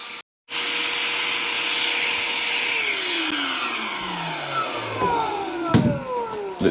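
A cordless SDS drill with an overly long bit bores into a wall, starting abruptly after a brief silence and running as a loud, steady grinding whine that gradually drops in pitch as it works.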